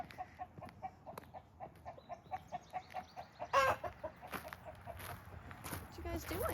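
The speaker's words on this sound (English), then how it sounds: "These are some of our older hens." Hens cluck repeatedly inside a backyard coop, a steady rhythmic series of close clucks that swells into louder excited squawking after an egg is laid, with a person talking over it.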